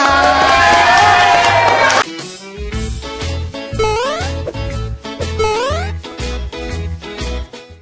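A crowd cheers loudly at first, then rhythmic group clapping with bright whoops and shouts carries on in a steady beat, close and energetic.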